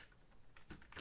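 Someone types briefly on a computer keyboard, a few quick, faint key clicks close by in a quiet room.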